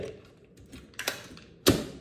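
A cable plugged into a charging adapter during a phone mouse-and-keyboard setup: a few soft clicks, then one sharp close snap near the end, with quiet handling between.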